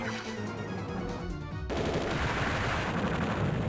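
Mega Tank firing its cannon in the Advance Wars Dual Strike game: a short burst of rapid, crackling gunfire-like reports, then a sudden shift to a dense, noisy rumble, moderately loud and without talk.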